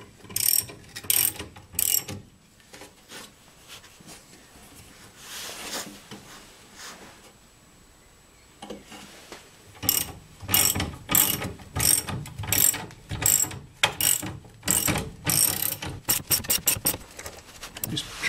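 A car jack ratchets up under a Lotus Elan in rapid runs of sharp mechanical clicks, pausing briefly in the middle before resuming in a steady, close clicking rhythm.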